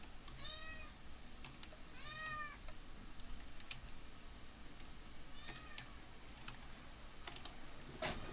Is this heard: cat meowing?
yes